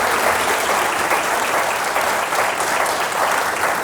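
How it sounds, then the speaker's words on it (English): An audience applauding after a talk on a nuclear research reactor used against cancer, a dense, even wash of clapping sustained throughout, loud and close. "Let's give one more round of applause."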